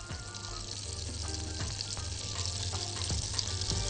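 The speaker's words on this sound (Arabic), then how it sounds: "حبات المستكة هحطها مع الزبدة تسيح." Butter with mastic grains melting in a pan, a soft continuous sizzle with faint crackles and an occasional light utensil tap, quiet and close with no talking.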